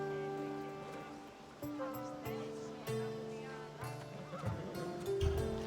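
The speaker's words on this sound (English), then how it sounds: "That's a nice horse, Socrates. It's a very nice horse. A sturdy horse." Horse whinnies and clip-clopping hooves from the video game Assassin's Creed Odyssey, heard over a dense, steady bed of tonal game sound with a louder burst near the end.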